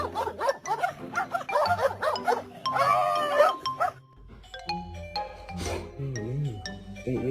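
A dog barks repeatedly in loud, close bursts, with some yips, over a cluttered mix of voices and other sounds.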